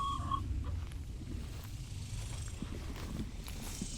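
Chickens on a homestead cluck softly at close range, with a few short calls over a low, steady background.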